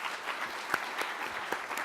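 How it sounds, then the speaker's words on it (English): An audience at an innovation summit applauds, with steady, moderately faint clapping and a few sharper individual claps standing out. "Let's give these guys a big round of applause."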